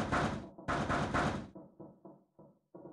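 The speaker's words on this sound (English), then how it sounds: "Junpei threw his left fist into the door and stopped." A fist pounds on a door in the video game 999: three heavy, loud, booming knocks, then a run of quieter, shorter taps in an uneven rhythm.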